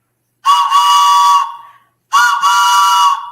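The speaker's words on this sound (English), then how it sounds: "So train whistle blast for those celebrations, guys." Train whistle blowing two loud, steady tonal blasts, each lasting over a second with a short gap between, close and alone.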